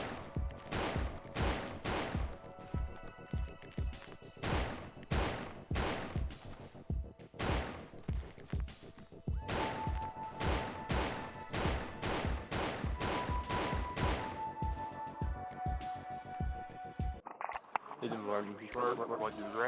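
Gunshots in the horror video game Paratopic, a long run of loud, rapid sharp bangs in irregular bursts, with tonal game sounds underneath and a shift to a different texture near the end.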